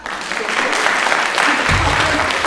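Applause from a conference audience builds and holds as a dense, steady patter of many hands clapping, fairly close and loud, with a low rumble joining partway through.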